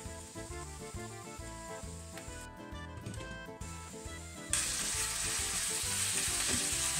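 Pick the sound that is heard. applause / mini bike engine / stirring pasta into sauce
stirring pasta into sauce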